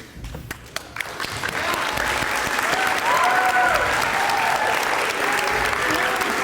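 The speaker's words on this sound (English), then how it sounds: "keep the applause going" A crowd applauds after a high school softball player signs her letter of intent to play for Angelina College, starting with scattered claps that swell into loud, steady applause with a few cheers.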